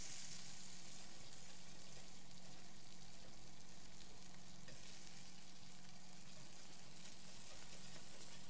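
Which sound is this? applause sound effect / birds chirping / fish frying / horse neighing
fish frying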